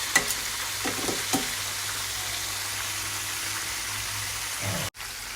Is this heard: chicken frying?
yes